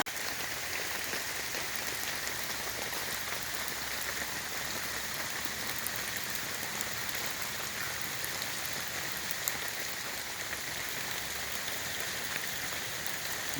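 Steady rain falls on the ground and surfaces at a river canoe camp, a dense, even hiss of drops that goes on without a break, fairly close, with no voices.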